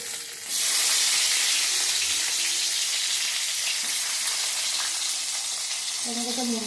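Chopped onions hit hot oil and burst into a loud, steady sizzle that holds strong to the end, with a brief voice near the close.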